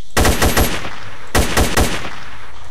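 Two short, loud bursts of rapid automatic gunfire in S.T.A.L.K.E.R., close up and alone, each burst a quick string of shots.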